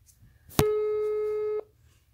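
A WhatsApp call tone rings once: a sharp click, then a steady electronic beep held for about a second that stops abruptly, close and clear over quiet background.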